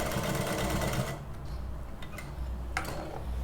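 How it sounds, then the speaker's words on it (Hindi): A sewing machine stitches a button placket, running steadily for about a second before slowing. Faint ticking and light mechanical clicks continue quietly. "आप मशीन को बिल्कुल स्लो चला लें ताकि आपका जो बिल्कुल कॉर्नर की सिलाई है वो अच्छे से आ जाए"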